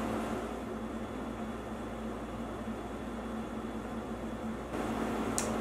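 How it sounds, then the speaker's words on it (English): An air conditioner runs indoors as a steady, even broadband whoosh with a faint constant hum, unbroken for the whole stretch and growing slightly louder near the end, with no voices. "And I have the air conditioner running."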